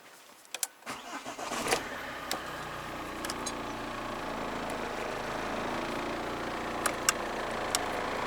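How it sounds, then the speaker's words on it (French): A car engine starts with a few clicks and catches, then settles into a steady idle with the air conditioning and its fan running, a constant close hum with occasional small ticks. "on démarre la voiture et on met l'air conditionné avec la puissance du ventilateur"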